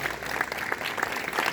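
Students clapping hands at a school morning assembly, a steady quiet patter of many hands with soft irregular peaks, fairly distant and continuous throughout.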